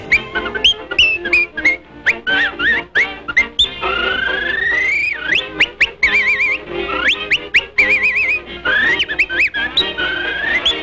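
Skilled human whistling, loud and close, with a nimble melody of quick trills, slides and sustained pitched notes that flows continuously with brief breaths between phrases.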